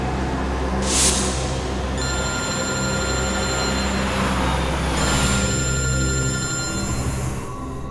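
A telephone rings with a steady electronic warble lasting several seconds, over a background rumble and a couple of brief hissing bursts.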